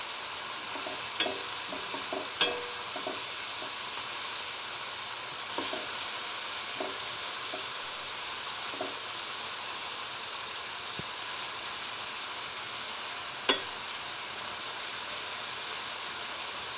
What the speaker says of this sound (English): Then you just stir fry it.